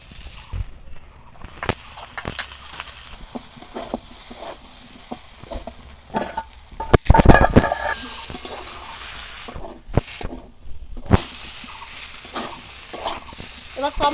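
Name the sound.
vegetables frying with mustard, poppy seed and green chilli paste for shukto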